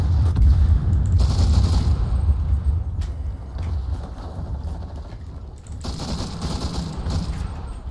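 Dense, continuous gunfire rattles through a World War II battle in the video game Enlisted, with rapid overlapping shots and booms near and far, loud throughout and alone without talk.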